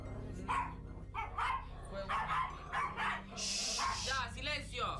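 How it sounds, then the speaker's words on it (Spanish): Several dogs bark and yip repeatedly in a house, loud and close, in rapid overlapping bursts while a person shouts over them. "¡Ya, silencio! ¡Silencio! Llévate a los perros, hija."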